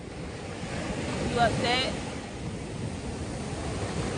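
Steady surf and wind rush fill a beach scene, with wind buffeting the microphone and a brief voice speaking over the constant wash of waves.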